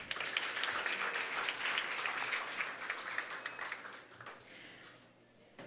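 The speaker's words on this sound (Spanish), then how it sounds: "Fuerte el aplauso." Loud applause from an audience at a regional oratory contest awards ceremony in Darién, Panama, sustained and fairly even, tapering slightly near the end.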